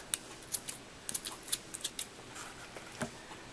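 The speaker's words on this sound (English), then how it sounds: "So I'm going to take my scissors" Scissors snip off the excess ribbon on a fabric kanzashi flower petal, giving a quiet run of sharp, light clicks spread over a few seconds with no voices.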